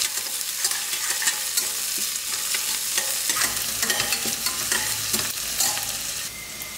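Sliced onions and curry leaves sauté in a pan for a country chicken semi-gravy, with a steady close sizzle broken by scraping stirs, no voices.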